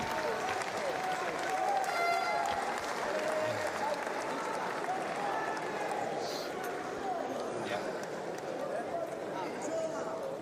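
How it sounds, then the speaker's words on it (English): Boxing arena crowd at the Max Schmeling hall cheering and applauding during a De Carolis vs Zeuge bout, a broad steady roar of many people with scattered shouts, under continuous commentary. "A big crowd at the Max Schmeling enjoying this."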